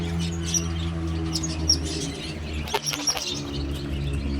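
A caged pet bird gives a few short, high chirps close by over a steady low hum, with a brief cluster of brighter calls partway through.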